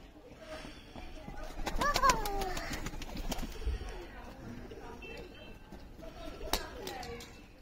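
A Rampuri pigeon from a breeder pair coos softly in a few low, throaty bursts close by, interleaved with someone talking and some handling noises.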